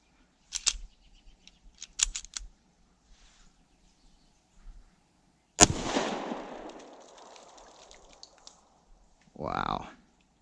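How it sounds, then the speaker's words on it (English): Single loud pistol shot fired into ice outdoors in a winter forest, a sharp crack that rolls away in a long echo, with quiet clicks and handling noise before it and a brief voice after. "So I'm gonna shoot into this ice down here."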